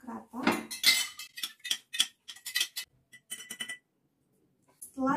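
A spoon stirring lactobacillus culture into water in a container, quick bright clinks and tapping in bursts, then a pause before another brief clink near the end.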